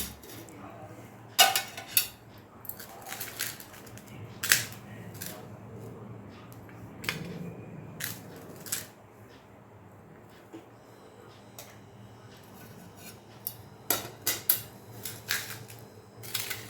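Dishes and cutlery clink during a home meal of rice with brinjal-tomato curry: scattered sharp metallic taps and scrapes of utensils on plates, close by, some in quick clusters with quieter stretches between, and no talking.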